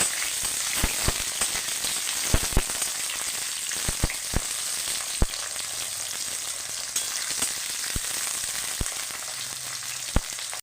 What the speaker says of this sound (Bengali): আমি একটু পটলটা নাড়াচাড়া করে একটু ভেজে নেব